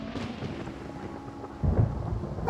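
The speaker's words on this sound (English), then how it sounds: "Paimon hears thunder!" Thunder from a storm in Genshin Impact, a low rolling rumble under steady rain that swells into a heavier, deeper crack near the end.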